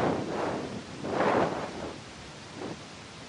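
Strong offshore wind blowing hard during a storm chase, roaring in broad gusts that swell and fade, buffeting the microphone with no one speaking.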